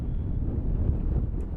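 Steady wind buffets the microphone at a high school softball field, a continuous low rumbling roar with no other distinct sounds.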